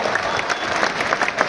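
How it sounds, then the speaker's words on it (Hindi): Loud, dense applause from a large audience at a business event in New Delhi, many hands clapping continuously with no voices over it. "एक बार जोरदार तालियां अपने लिए बजाइए"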